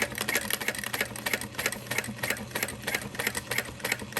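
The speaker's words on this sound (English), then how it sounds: "sew around the outer edge again" A sewing machine stitching around the outer edge of a bowler bag, a steady fast needle rattle with even rhythmic pulses running throughout.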